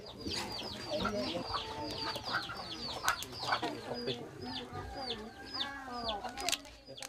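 Chickens cluck and squawk repeatedly at an Ifugao village wedding ritual where fowl are offered, the calls busy and overlapping at close range above a murmuring outdoor background.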